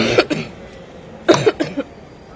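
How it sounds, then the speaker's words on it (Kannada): A person coughs at a stall at a Swadeshi fair, with two clusters of sharp, close coughs separated by a brief quiet gap. "ಕೆಮ್ಮಿದೆ ಇವಾಗ, ತುಂಬಾ ಕೆಮ್ಮಾಗ್ತಿದೆ"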